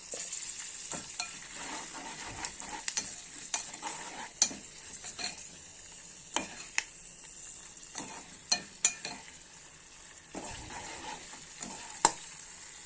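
A spoon stirs a sizzling tempering of green chilies, dried red chilies, curry leaves and turmeric in hot oil, scraping and clinking against the pan in steady rhythm at close range.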